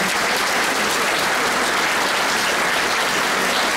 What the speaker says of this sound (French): je pense qu'on peut les applaudir très fortement